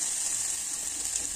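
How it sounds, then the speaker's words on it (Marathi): Chili and cumin paste sizzling in hot ghee, a steady, even hiss with a bright crackle that holds at constant loudness for the whole short stretch, with no voices. "मिरचीची पेस्ट जोपर्यंत फ्राय होते"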